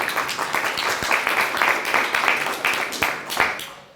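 A room of people at a death penalty forum claps, a dense, lively patter of many hands with a few sharper individual claps standing out, steady and fairly close before tapering off at the end.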